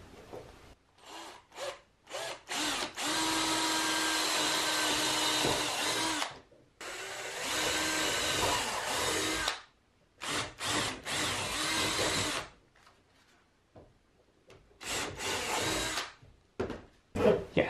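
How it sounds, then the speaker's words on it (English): A power drill runs in several bursts, two long sustained whines of drilling broken up by short stops and quick trigger pulls, close and loud. "Now I'm going to drill kind of up at an angle here"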